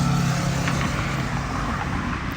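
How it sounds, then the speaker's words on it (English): Loud cars pass close by on a road, a steady broadband engine and tire roar with low rumbling that holds at high level throughout without a pause. "Loud ass cars."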